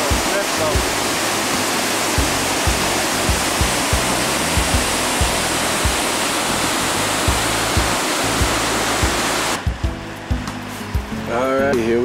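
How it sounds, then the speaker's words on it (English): River rapid water roars loudly at Clarno, a dense, continuous rush with thumping knocks underneath. The roar drops away near the end, when a voice comes through. "Heading into the first rapid here at Clarno."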